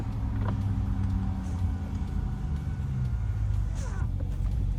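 A Dodge Ram TRX V8 under full throttle, a steady loud low engine roar with road and wind noise that holds constant throughout, no clear rise in pitch.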